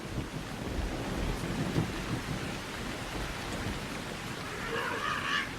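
Heavy stinging rain pours down in a storm where elephants shelter, a steady dense hiss with low thunder-like rumbling throughout and no voices.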